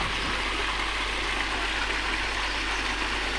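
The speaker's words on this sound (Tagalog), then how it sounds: "Munting ilog." A small natural river runs through a garden, its steady broadband rush of flowing water continuous and fairly close, with no voices over it.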